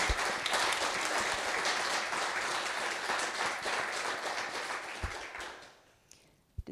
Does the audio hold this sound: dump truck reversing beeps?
no